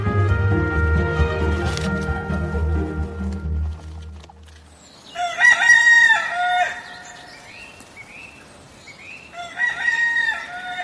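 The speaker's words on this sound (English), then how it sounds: "In the morning, it needs more than the crowing of the cock to awaken Marcel." A rooster crows in the morning, two loud, close crowing calls in the second half, the first longer and the second shorter, following a stretch of low tonal sound with little else around.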